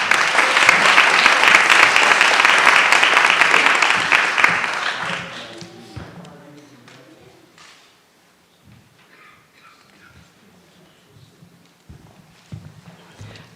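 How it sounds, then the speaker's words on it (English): Audience applause at a teacher of the year ceremony, loud and sustained for about five seconds before fading into a quiet room with scattered footsteps and small noises. "Let's give a round of applause for District 7 Secondary Teacher of the Year, Jennifer Dassinger."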